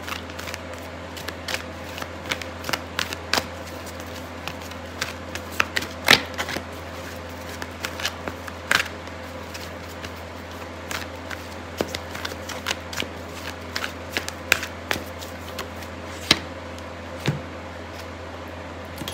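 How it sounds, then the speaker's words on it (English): Tarot cards being shuffled during a reading, producing a steady stream of crisp riffling clicks and soft slaps over about twenty seconds, close and continuous with no speech over it. "so I'm going to pull out a card for your advice"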